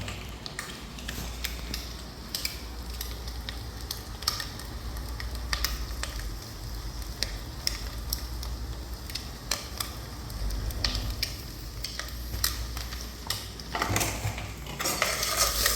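Chicken masala is stirred in a frying pan, with a constant sizzle under repeated scraping and clinking of a spoon against the metal, close and busy throughout.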